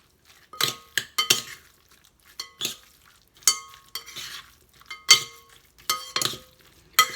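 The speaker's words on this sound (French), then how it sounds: "On mélange tout bien." Gyoza dumpling filling with soy sauce, lemongrass, ginger and spices is stirred in a bowl, making about a dozen irregular scraping and clinking bursts separated by short quiet gaps, close and clear.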